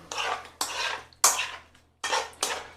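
A metal spoon scrapes and scoops apple filling from a dish for a crumble cake, five distinct clinking scrapes spaced about half a second apart, close and fairly loud, with no talking.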